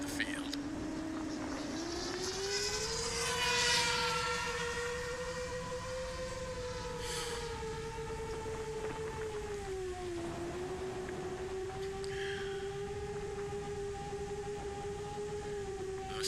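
An iFlight Helion 10 O3 6S HD FPV drone making a low pass over a field on a cold, cloudy day, a sustained propeller whine that rises and falls in pitch as it sweeps by.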